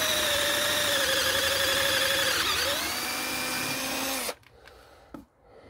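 A cordless drill drives screws into a workshop bench with a loud, close, sustained whine that drops in pitch as it bogs down, then cuts off abruptly, followed by faint handling noises.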